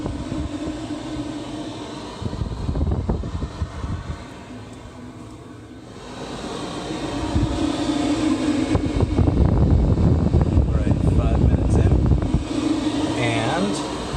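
A diesel heater running inside an offroad teardrop trailer gives a steady fan-like whoosh and hum that swells louder midway and holds, with a person talking over it.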